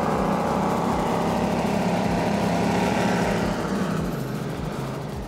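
Skater powerboat with big Mercury Racing 800 SC engines at a Miami poker run, a loud, deep, steady engine roar that stays close and then slowly fades as the boat moves off, with no talk over it.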